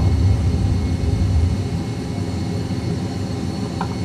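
Airbus A320 jet engines at take-off thrust during a strong crosswind take-off, a loud steady roar heard from inside the aircraft, heaviest in the first second and a half, then holding as a constant rumbling drone with no talk.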